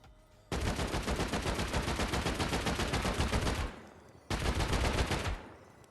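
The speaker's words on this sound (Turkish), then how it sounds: "30 mermi sıktık ve 31 patlayıcı mermiye kapımız patlıyor." AK rifle firing explosive rounds at a base wall in the survival game Rust: a long rapid full-auto burst of about three seconds, a brief pause, then a second shorter burst, loud and close.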